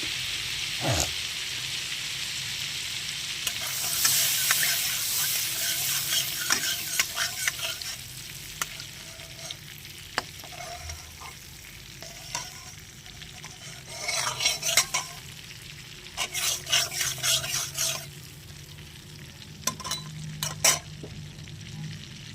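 Butter melts and sizzles in a pan while being stirred, a steady frying hiss broken by repeated scraping and clinking of a utensil against the pan, close and clear.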